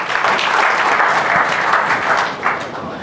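Audience applause at an e-commerce lecture, a dense, steady wash of many hands clapping loudly throughout, with a brief swell near the end.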